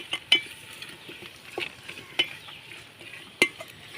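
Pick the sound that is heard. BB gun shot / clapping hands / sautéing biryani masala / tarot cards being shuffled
sautéing biryani masala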